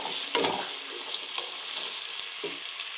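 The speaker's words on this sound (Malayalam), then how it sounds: "കുറച്ച് എണ്ണ ഒഴിച്ച് നമുക്ക് ഒരു രണ്ട് സവാള ഒന്ന് വറുത്തെടുക്കാം" Steady hiss of onions frying in oil, with a few louder spatters and soft stirring knocks over the continuous sizzle.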